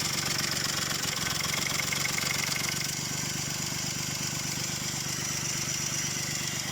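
A Volkswagen Polo 6R engine with heavy internal damage runs steadily right after starting. It makes a loud, constant mechanical drone with a rough, rapid knocking pulse throughout, close and with no voices.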